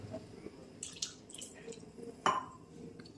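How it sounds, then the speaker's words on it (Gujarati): Water is added to handvo batter in a bowl, giving quiet, scattered drips and splashes with a sharper liquid splash near the end. "આપણે પાણી એડ કરશું"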